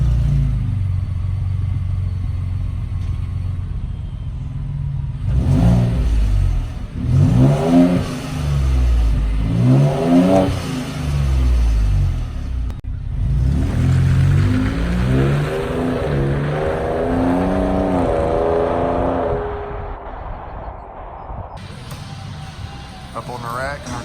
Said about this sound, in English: Let's take a listen to some before exhaust sounds